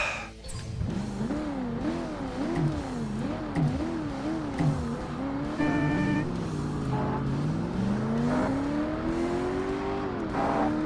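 Race car engine from the 2005 Xbox game Forza Motorsport, in a championship classic sports car event, revving and shifting continuously with rising and falling pitch, loud and close throughout, with no talk over it.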